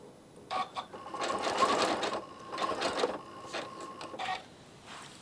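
Domestic sewing machine stitching quilt-as-you-go blocks, running in several short motor bursts with brief stops between them, close and fairly loud with a steady whirring hum.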